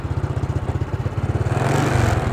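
A Honda Supra X 125 R motorcycle idles close by with a rattly engine and a harsh exhaust, giving a rapid, even thumping pulse that grows slightly fuller and rougher toward the end.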